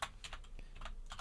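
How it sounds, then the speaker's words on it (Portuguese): Keys clack on a computer keyboard in a short burst of quick, light taps, faint and close, with no talk. "Aqui eu vou dar um enter."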